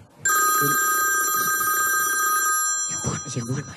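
A telephone rings with a bright, sustained electronic trill for about two seconds, loud and close, followed by a person starting to talk as it stops.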